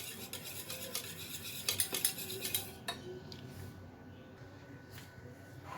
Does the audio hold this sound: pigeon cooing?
no